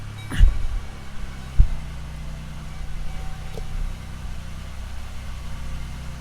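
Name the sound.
old car engine started and idling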